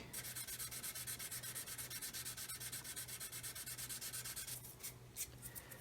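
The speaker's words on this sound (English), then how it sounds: "So just gently sanding away." Steady, rapid light sanding strokes rubbing over a plastic scale model aircraft, continuous and close, easing into a few scattered scrapes at the end.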